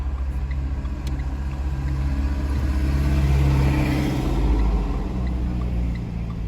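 During a driving licence exam, a car engine rumbles and builds as the vehicle speeds up and shifts into second gear, a steady low drone that swells midway and then eases.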